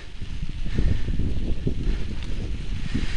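Low, rumbling wind buffets the microphone continuously on a trail at the Santa Rosa Plateau, with a steady rushing noise underneath and no talking.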